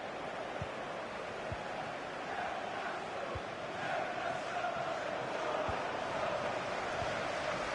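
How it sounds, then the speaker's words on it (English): Stadium crowd noise from a Premier League match between Newcastle United and Manchester United in the FIFA 23 video game, a steady broadband roar that swells slightly midway and holds moderately loud throughout, with no voices on top. "Being egged on by the crowd."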